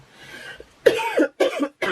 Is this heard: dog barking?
no